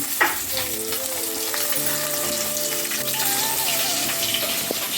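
Parshe fish fry in a pan of hot oil with a loud, close, crackling sizzle, broken by a few faint clinks and stirring sounds and no speech.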